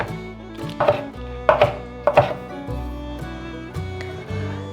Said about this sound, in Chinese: 把红喜菇切碎